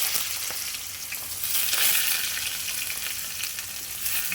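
Chopped onion and green chillies fry in hot oil in an Andhra-style chicken gravy, giving a steady, loud, close sizzle and hiss throughout, with light stirring and no talking.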